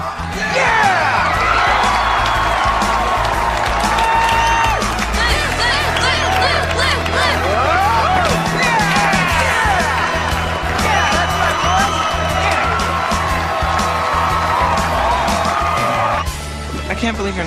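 A loud crowd whoops, yells and cheers continuously at a high school football pep rally, a dense roar of many voices close by that drops off sharply near the end.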